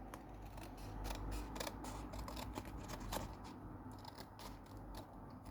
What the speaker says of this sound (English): I'm just going to cut this bit off.